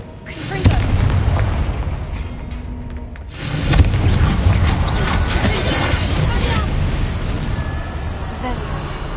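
A Confringo fire spell explodes in the video game Hogwarts Legacy, giving two loud booming blasts, the second around the midpoint, each followed by a rumbling roar that continues underneath.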